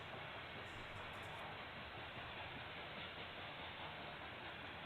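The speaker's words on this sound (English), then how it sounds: "eastbound loaded coal train going by Ottumwa at 6:31 this morning" A loaded eastbound coal train led by a pair of locomotives rolls past trackside at dawn in Ottumwa, a steady broad rumble and roar of wheels and cars that holds constant throughout, fairly distant and without voices.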